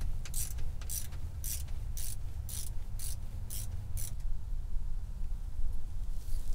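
A ratchet with a half-inch socket works a bolt on a Jeep TJ, giving about eight evenly spaced, crisp clicks over a low background rumble before the ratcheting stops.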